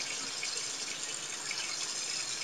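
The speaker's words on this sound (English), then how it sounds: "We're going to add 2 ice cream scoops of cold water." Cold water pours steadily into pastry dough in a continuous close-up gush with no breaks and no talking.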